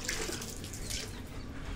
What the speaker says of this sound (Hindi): पानी से डरता हुआ कुत्ता, देखो ये पानी,